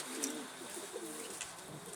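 A captured pigeon coos softly and close in a quiet room, a few low, gentle murmuring calls over faint background noise.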